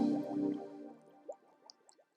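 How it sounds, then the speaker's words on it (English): A bubble sound effect used in music production: a short burst of liquid gurgling followed by a few sparse, soft popping bubbles that fade out quickly, with no voices. "We've got some bubbles."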